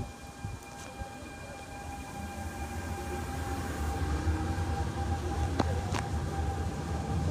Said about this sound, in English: Oh, these trains go pretty quick.